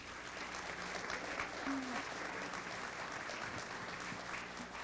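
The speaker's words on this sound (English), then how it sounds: "Let's give him another round of applause." An audience at a land use training program for municipal planning and zoning officials claps for a speaker, a dense, steady round of applause filling the room from start to finish, with a brief murmur of voices beneath.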